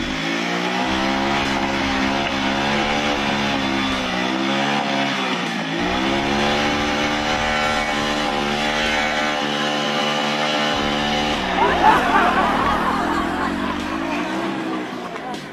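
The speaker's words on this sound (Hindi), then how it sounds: "इस निशाई साहब को ही देख लेते हैं जो बाइक को रेसे दिए जा रहा है" A motorbike engine revved hard over and over, loud and close, with the pitch rising and falling between throttle blips. Nearby voices and crowd chatter sit underneath.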